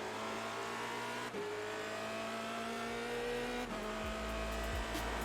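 Race car on a lap of Silverstone, its engine droning loud and steady from onboard with rising revs, sharp gear shifts and a low rumble as it brakes and pulls away.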